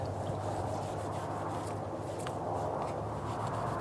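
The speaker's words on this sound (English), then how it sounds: "you want to wipe these surfaces clean with a rag" Steady, soft rubbing from a rag wiped across wooden knife-handle surfaces, continuous and close, with no talk.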